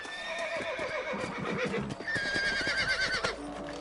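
Horses from the video game Red Dead Redemption whinny loudly and repeatedly over a busy bed of clopping hooves, the calls rising and falling in long shrill cries.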